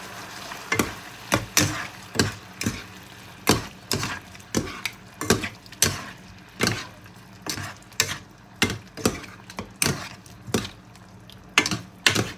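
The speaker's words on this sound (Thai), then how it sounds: "ปลาหมึกก็ค่อนข้างสุกเร็วอยู่นะคะไม่ต้องผัดนานเท่าไหร่ค่ะ" Squid and spring onions are stir-fried in a hot pan, a constant sizzle broken by a steady run of sharp spatula scrapes and clanks roughly every second, close and without talk.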